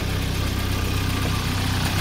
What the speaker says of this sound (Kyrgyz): Мына мотордун угулушун дагы көрүп коюңуздар.